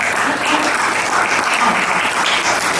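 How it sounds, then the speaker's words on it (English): Audience applause at an environmental justice symposium keynote, a large hall crowd clapping steadily and densely throughout, loud and sustained with no break. "So we have to clap for Thomas Berry."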